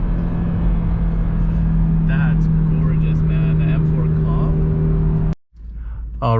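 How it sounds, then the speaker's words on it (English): An Audi RS3 drives along with a steady, loud engine and turbo drone inside the cabin, with some whooshing changes as it goes before the sound cuts off abruptly near the end. "The turbo noises on this."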